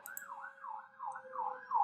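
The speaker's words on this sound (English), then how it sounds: "Sorry if you can hear the siren in the background." A distant emergency vehicle siren wails in the background, rising and falling in a steady repeating cycle. It is faint and heard alone, with no talk over it.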